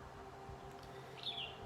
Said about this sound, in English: I love this place. It's like a little wonderland with birds singing